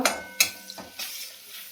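Small Katla fish frying in oil in a pan with turmeric going in, heard as soft sizzling and a few quick stirring scrapes and clinks, close and moderately loud with no talk.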